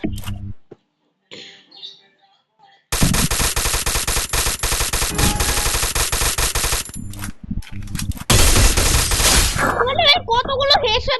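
Rapid automatic gunfire from the video game Free Fire rattles in long, loud bursts after a quiet start with a few faint clicks, ending in a heavier volley and some chirpy game sounds.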